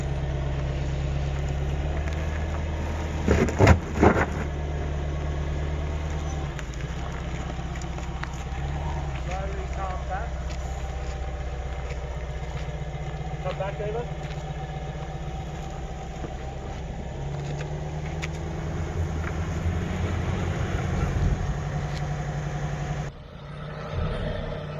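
A Range Rover L322 engine idles and revs steadily while driving off road on steep terrain, a continuous low rumble with some clanks and knocks, with people talking over it.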